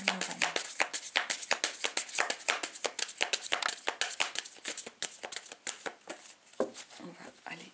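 Rapid crisp tapping and riffling of a tarot deck being shuffled and cut, dense flicking card snaps in quick succession, close and bright, with a quiet pause near the end.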